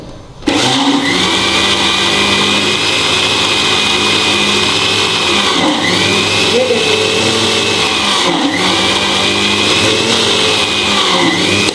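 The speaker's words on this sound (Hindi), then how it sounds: "ये मक्खन बनने की आवाज़ है" Electric blender churning chilled cream into butter for homemade desi ghee, a loud steady whir with a sloshing, thumping rhythm as the butter separates, running continuously close by.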